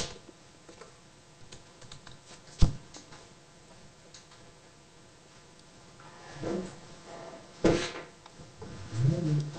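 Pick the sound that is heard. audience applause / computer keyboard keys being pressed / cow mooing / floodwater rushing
computer keyboard keys being pressed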